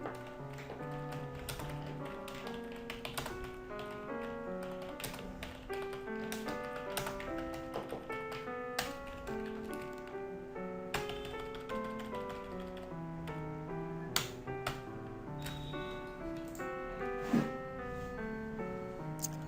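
Someone types on a computer keyboard into a Word document, producing quiet, irregular tapping keystrokes in a fairly continuous stream with brief pauses, close but soft, and no voices.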